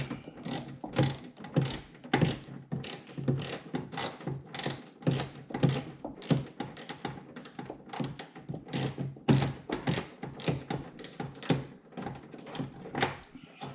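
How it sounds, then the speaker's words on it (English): A ratchet wrench fitted with a swivel works a bolt loose on a sixth-generation Camaro ZL1 1LE aero kit, giving a fast, steady run of close, sharp mechanical clicks for most of the stretch. "This one here, I can get a swivel in here and get it off."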